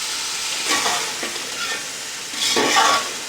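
Spices for chicken vegetable pulao, with chili sauce, tamarind and crushed red chili, fry in a pan while a spoon stirs them, giving a steady sizzle with scraping strokes near the start and end.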